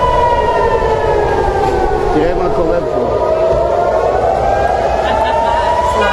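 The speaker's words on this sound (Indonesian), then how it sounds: "Sirine tanda peringatan terdengar di sejumlah titik di Tel Aviv." An air raid warning siren wails across Tel Aviv during a missile attack. Its loud, sustained tones slowly dip and rise, a voice talks over it, and a steady rumbling background runs throughout.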